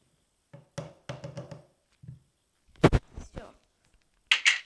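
Someone raps knuckles on a door in short clustered bursts of several knocks, fairly close in a quiet room, with brief pauses between groups and a sharper, brighter rattle at the end.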